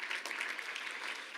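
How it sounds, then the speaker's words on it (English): Attendees at the end of a meeting give themselves a brief round of applause, a burst of many hands clapping together that stays even and fairly close. "give yourselves a round of applause"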